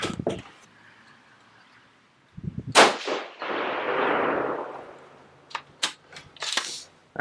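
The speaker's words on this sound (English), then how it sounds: "we're going to shoot a 5-shot group" Rifle shots from a Savage 110 Switchback chambered in 6 ARC, fired over a chronograph outdoors: a couple of sharp, loud reports, each with a rolling echo tail, followed by a few quieter clicks and clacks.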